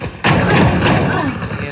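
A single close gunshot fires in Valorant, a sharp heavy report that sets off a sudden thump, followed by busy game noise and ringing tail, with players chattering over it.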